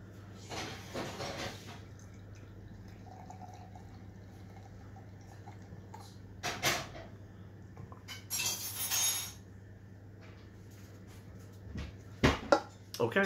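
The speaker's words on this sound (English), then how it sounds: "let's pop a top on this one and let's see what we've got" A can of Salt Hexagon Project #09 Not Hot One mango, habanero and Citra double IPA is cracked open and poured into a glass, with a few short clinks and a soft liquid rush amid quiet room noise.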